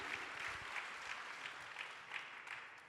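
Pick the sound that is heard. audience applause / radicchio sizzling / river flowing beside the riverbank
audience applause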